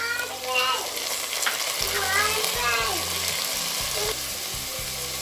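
Onions and soya chunks fry in a pressure cooker with a loud, close sizzle and stirring scrapes, while a voice talks over part of it and background music plays.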